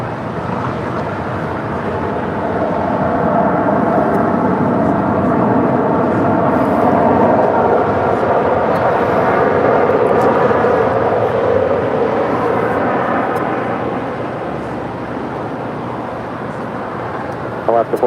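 An airliner departs LAX, its jet roar swelling to a loud peak and then fading away, with radio chatter mixed over it.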